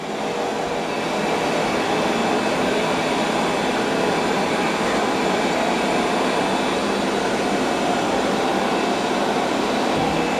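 A Roborock S8 Pro Ultra robot vacuum runs steadily around a room, its motor and brushes giving a loud, continuous broadband whir with no breaks and no voices.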